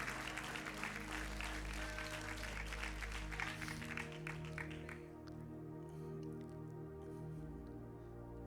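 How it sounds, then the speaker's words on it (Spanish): Church congregation clapping at a Spanish-language Sunday morning service, dense applause for about five seconds over sustained organ or keyboard tones, then fading into lingering music. "podemos darle ese aplauso fuerte y un grito de alabanza y de júbilo a nuestro Rey."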